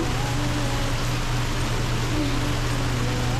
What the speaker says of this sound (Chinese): 落咁大雨啊！